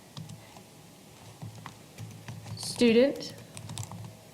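Someone types on a computer keyboard at a steady patter of light, close key clicks, while a voice talks over it.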